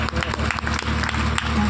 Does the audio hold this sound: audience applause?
yes